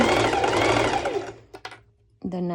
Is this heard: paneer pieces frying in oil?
no